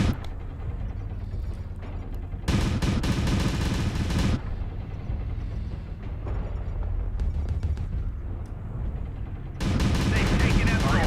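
Gauss rifles firing in the MechWarrior Online video game, heavy booming bursts loud and close in two long volleys with rumbling battle noise between, and a voice talking over parts.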